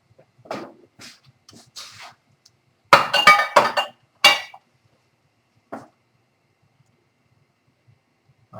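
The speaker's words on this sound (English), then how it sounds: "you can use a glass jar with a good lid" A glass jar is handled on a kitchen counter, with a few scattered clinks and knocks followed by a busier cluster of glassy rattles and clatter, close and fairly loud, then a last faint tap.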